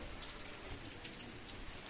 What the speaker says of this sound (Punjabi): ਦੇਖੋ ਮੀਂਹ ਪੈਣ ਡਿਆ